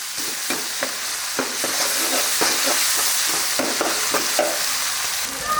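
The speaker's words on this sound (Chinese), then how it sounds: "豆瓣酱，先炒豆瓣酱哈" Doubanjiang chili bean paste stir-fries in a generous amount of hot oil in a wok, with a continuous loud sizzle and repeated scraping clacks of the spatula, close up, no talk.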